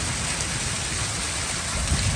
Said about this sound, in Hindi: परनालों से भी पानी ज़ोरों शोर से आ रहा था, नाली से भी पानी बाहर ओवर हो गया था